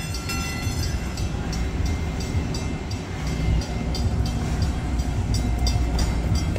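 A DART light-rail train passes at a rail yard event, a loud, steady low rumble and wheel roar filling the whole stretch with faint rhythmic clatter over the rails.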